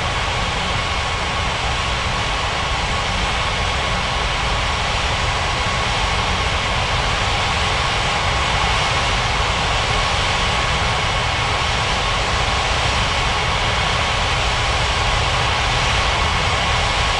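Continuous airliner engine roar from an aircraft taxiing to the runway in a mobile air traffic control game set at Ngurah Rai Bali International Airport, steady and loud throughout with no talk.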